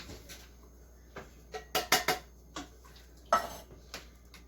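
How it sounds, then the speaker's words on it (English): A spoon stirs lime chicken burrito ingredients in an Instant Pot's metal inner pot, a series of close, crisp clinks and scrapes in an irregular rhythm, several clustered strokes then scattered single taps. "Go ahead and give all of this a stir one more time"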